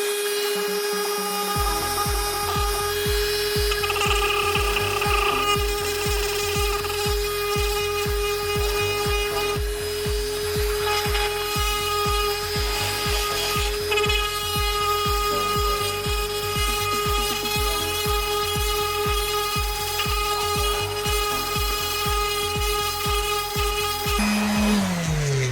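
An orbital sander running steadily on interior trim material, a continuous loud motorized hum with a fast regular buzzing pulse that starts abruptly after a short silence and keeps going without a break, close, with no talk.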